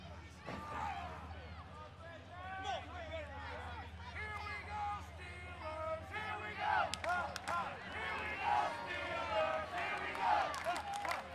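A wrestling arena crowd in Pennsylvania taunts Bobby Beverly with a steady babble of shouting and jeering voices that swells at times, while people talk over it.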